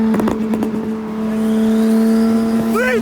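BMW E36 M3 race car accelerating hard, engine note climbing steadily with a strong sustained tone, a few sharp bursts early on and a whining rise near the end, no talking.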